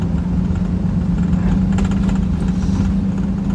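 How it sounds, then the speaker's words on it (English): A lowered Infiniti G35 grinds and scrapes along a rough road, its steady engine drone loud and close, with a harsh, continuous rasp and a few sharper scuffs midway through. "this car is just scraping on everything"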